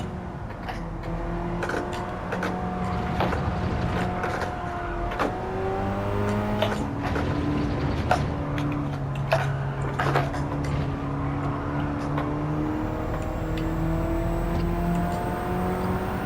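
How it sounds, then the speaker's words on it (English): Race car engine in Gran Turismo 7 revving and accelerating steadily through repeated gear changes, the pitch climbing and dropping, with occasional tire squeal, loud and continuous with no talk. "Car is gradually oversteering on throttle rather than snapping into oversteer."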